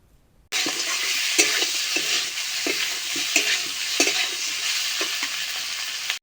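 Pointed gourd, potato and pre-fried prawns are stirred in spices in a hot pan, making a loud continuous sizzle broken by regular scraping strokes of the spoon, with no speech.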